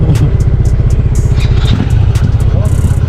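A motorcycle engine starts after a spark plug repair, its low, rapid pulsing held steady throughout at close range, with people talking over it.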